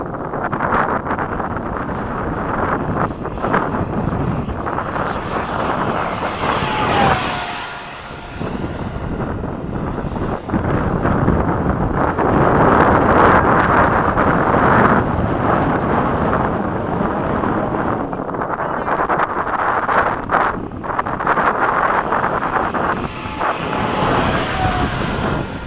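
An FMS 70mm F/A-18 model jet with a powerful motor roars loudly overhead at a flying field, its ducted-fan whine swelling and fading as it passes, mixed with heavy wind buffeting the microphone.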